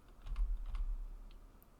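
A few clicks of a computer keyboard key, including the E key, are pressed close up in a quiet room, with a couple of light taps and no talking.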